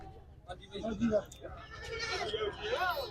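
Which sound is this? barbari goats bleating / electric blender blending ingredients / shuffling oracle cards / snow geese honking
barbari goats bleating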